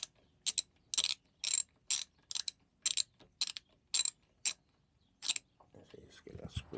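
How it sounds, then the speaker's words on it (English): An X drive tool undoes a fastener on an electric Cimatti Mini Chic, giving a series of sharp clicking ratchet strokes in a steady rhythm, close and fairly loud, ending with some faint handling noise. "we can use this X drive thing to undo it"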